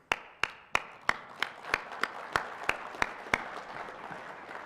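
A committee applauding the audience at the closing session of the SAINTCON 2018 conference, heard as about a dozen loud, evenly spaced claps that soften into a lighter patter, close by with no talk.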